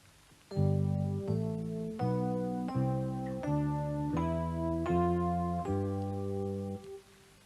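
A Mixolydian scale starting on G climbs in seven evenly spaced sustained notes over a held chord, each one ringing clearly with no talk, before fading out near the end.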